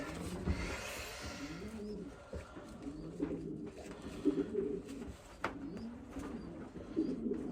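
A young cock racing pigeon coos in a loft, soft low throaty calls repeating at close range over faint background rustling and a few chirps, with no talk.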